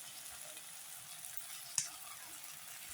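A spoon stirs turmeric and chili powder in a cooking pan over steady low sizzling, with one brief sharp scrape of the spoon partway through.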